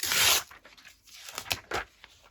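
Paper is ripped by hand for a collage tag: a loud opening tear followed by several shorter, softer rips and crinkles, close up with no talk.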